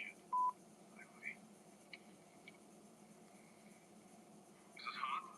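Telephone keypad tones sound as a call is placed, one loud tone followed by several fainter beeps over quiet background noise, with brief voices near the end.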